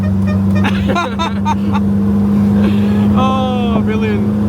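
A 1-litre Mini with a fabricated exhaust drives along a bumpy road, its engine giving a loud, steady low drone that holds throughout while people talk over it.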